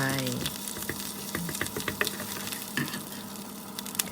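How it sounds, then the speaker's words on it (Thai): Red curry paste stir-frying in a hot pan for a Thai spicy pork-leg dish, a steady dense sizzle with scattered scraping clicks of a spatula, close and continuous throughout. "เดี๋ยวก็ผัดพริกแกงหน่อย นึง"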